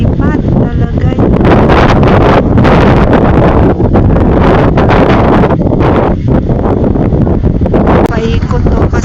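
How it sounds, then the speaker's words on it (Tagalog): Strong wind blows hard and continuously outdoors, a loud roaring rush buffeting the microphone throughout, with people talking faintly beneath it. "Lakas ng hangin."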